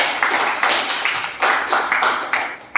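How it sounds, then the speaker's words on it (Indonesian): Students in a physics classroom clap together for a few seconds, a close, dense patter with a loose rhythmic pulse of repeated beats. "Tepuk tangan untuk diri kalian."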